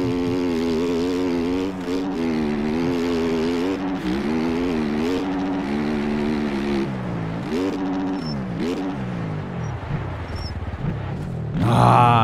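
A dirt bike engine in the MX Bikes video game drones and revs steadily throughout, pitch rising and falling with throttle changes over a freestyle motocross compound track, ending with a louder burst of engine noise.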